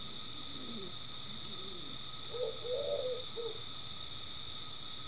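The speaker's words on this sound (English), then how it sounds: "God bless the birds yelling outside." Outdoor birds call in spring with a few soft cooing, hooting notes at mid distance over a steady high ringing hum, and no one speaks.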